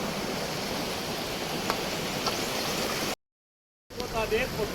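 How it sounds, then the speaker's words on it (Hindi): A small waterfall rushes steadily and loudly on a mountain trek route to Kedarnath and Gangotri, a continuous broadband roar that cuts out briefly before resuming. "ये एक झरना पड़ा है छोटा सा"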